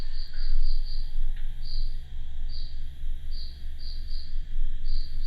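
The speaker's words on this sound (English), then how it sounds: "Effing Cricket was only doing it while we were recording." A cricket at Ashmore Estates chirps in steady, evenly spaced pulses over a constant low background hum, with no talking.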